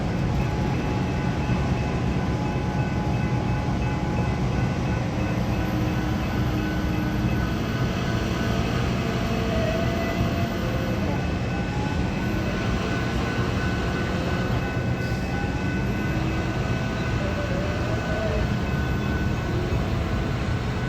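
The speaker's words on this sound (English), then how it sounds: "I got stopped by this trackmobile moving some hoppers in the Bunge Spur." A trackmobile shoving railroad hopper cars on a grain spur, a steady close diesel drone with low rumble and faint rolling car noise throughout, and no talking.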